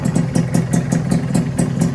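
A Suzuki Satria two-stroke motorcycle idles steadily during break-in after a cylinder block oversize, its engine close and loud with a rapid, even, slightly clattery pulse.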